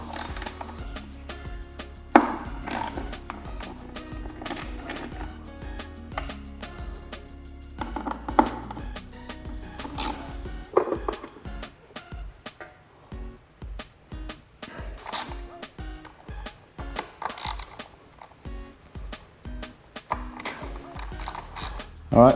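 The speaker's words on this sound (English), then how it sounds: "just a T27 Torx bit. on a 1/4 inch drive socket" A 1/4-inch drive ratchet turning a T27 Torx bit while removing a housing on a Harley-Davidson Sport Glide, giving repeated rapid clicking strokes in bursts, close and fairly loud, with mechanical clatter between.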